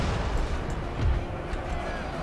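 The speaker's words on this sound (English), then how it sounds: "We are firing our cannons out on, what have we got? The conscripts over here." Distant cannon fire rumbles low in Napoleon: Total War, with several muffled booms thudding under a dense battlefield din.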